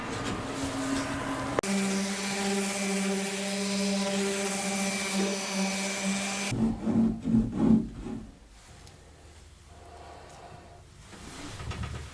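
A power sander works across a wooden cabinet ledge in a vintage Boler RV remodel, a steady buzzing drone lasting several seconds before cutting off into scattered rubbing and knocking.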